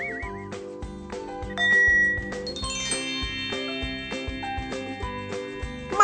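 Bright mindfulness bell tones ring and sustain over a steady tonal musical backdrop, with a few clear chimes that linger and fade.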